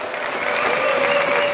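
A large crowd in Slovakia's parliament applauds a no-confidence vote result, a dense wash of clapping that swells slightly and continues without break.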